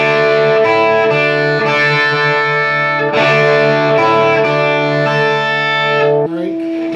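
Distorted electric guitar, heavily processed with effects, plays the riff from a song along with a backing recording: loud, dense and sustained, with repeated chord hits and no talking.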